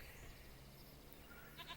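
Goats in Farming Simulator 25 bleat faintly in a few short, wavering calls near the end, quiet over a steady low background of ambient game noise.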